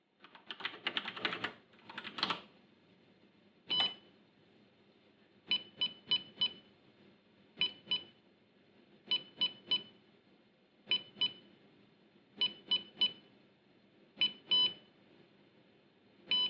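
Short Morse code beeps from a small speaker driven by an Arduino, heard as crisp repeated tone bursts in irregular dot-dash groups after a brief burst of keyboard-like clatter at the start, fairly close and alone.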